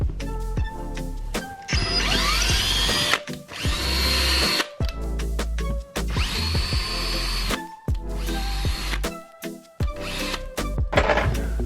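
A power drill drives a wall anchor into a basement wall, whirring loudly in several long bursts separated by short pauses, with each run ramping up and down in pitch.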